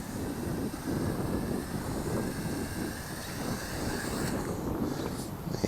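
A Holy Stone HS340 micro drone flies outdoors and comes in to land, its steady whirring hum running under heavy wind buffeting against the microphone, with no one speaking.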